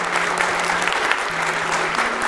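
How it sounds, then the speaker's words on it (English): Steady applause from a crowd at AGDQ 2015, a speedrunning charity marathon, dense clapping throughout with a faint tonal hum underneath. "give him a round of applause, guys."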